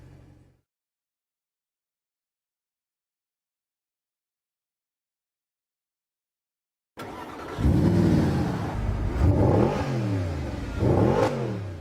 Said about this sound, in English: Leno blasts off from Mulholland on his lap of Los Angeles.